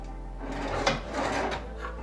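A drawer of a hotel-room chest of drawers slides with a wooden rub and scrape, brief and close, ending in a soft settle, with no one talking.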